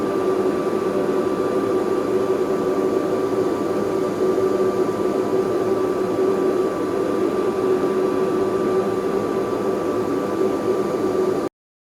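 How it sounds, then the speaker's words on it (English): An Atomstack Maker A30 Pro laser engraver runs steadily for about eleven seconds, giving a constant loud whirring hum with a fan-like hiss and a thin steady whine, then cuts off abruptly. "so you can hear the sound of the laser itself and see how loud it is"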